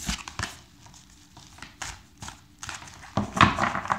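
Crisp papery shuffling and flicking of tarot cards in irregular bursts, close up, with soft riffles and no talking.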